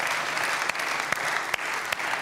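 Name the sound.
audience applause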